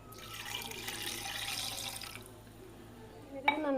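Ginger syrup poured through a strainer into a glass makes a soft, steady liquid trickle for about two seconds and then fades, followed by a brief faint clink near the end.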